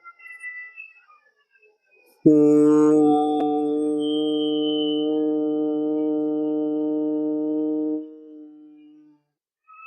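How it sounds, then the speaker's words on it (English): A single voice hums one long, steady, close tone on an exhale during a relaxing night yoga session; it starts abruptly after a short quiet lead-in, holds for about six seconds, then fades into silence. "while breathing out we will do humming sound"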